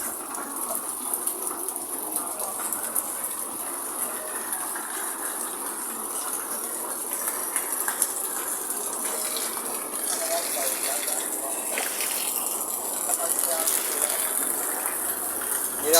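Steady rain hissing and pattering on surfaces, a dense broadband wash that holds throughout with small irregular drips and clatters.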